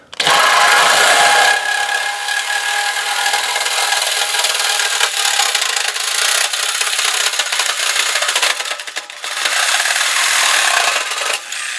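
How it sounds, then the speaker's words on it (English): A reciprocating saw cuts a section out of an exhaust pipe, with loud, continuous harsh rasping that holds steady for about ten seconds and breaks off briefly near the end before resuming. "I'm going to use the reciprocating saw to cut this section of pipe out"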